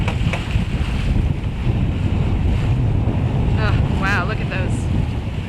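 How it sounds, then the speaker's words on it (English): Large ocean swells break on the shore near a harbor entrance on the Spanish Rías coast, a broad steady roar of surf heard from a sailboat under heavy wind buffeting. Someone briefly speaks over it. "look at those breaking waves there"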